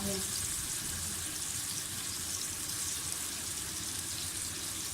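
Onions fry in a pot with ginger going in, a steady, loud sizzle that fills the whole stretch with no break.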